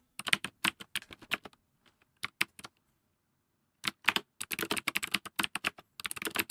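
Someone types hello world programs on a computer keyboard in quick, clattering bursts of keystrokes, broken by short pauses and a longer gap before another fast flurry.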